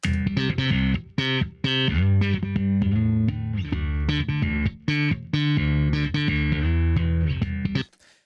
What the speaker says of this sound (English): how to get a modern sounding slap bass tone